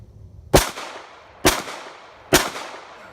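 A Ruger American pistol chambered in .45 ACP firing three sharp, loud shots roughly a second apart, each crack trailing off into a short echoing decay at an outdoor range.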